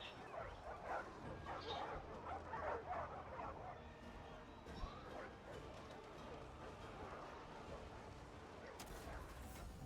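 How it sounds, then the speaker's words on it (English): War dogs bark in a battle video game, a flurry of rapid yips and barks over the first few seconds that fades into a busy wash of combat noise and distant gunfire, with voices faintly mixed in. "Oh, I hear war dogs."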